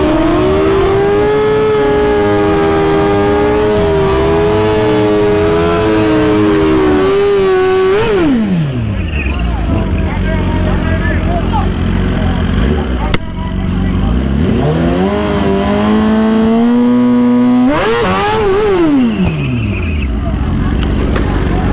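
A 2020 Suzuki GSX-R 1000 screams through a grudge race, loud engine wails climbing in pitch, dropping with each shift and rising again, heard close alongside other engine noise.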